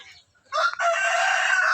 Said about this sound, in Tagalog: kay mga manok sa Uncle Gili